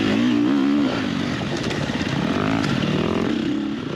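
A dirt bike engine revs hard and close during a hare scramble race, its pitch rising and falling in a steady growl over a few seconds, with other machines droning faintly behind.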